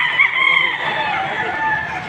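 A rooster crows loudly and close by in one sustained call, at a chicken market in Padre Garcia, Batangas.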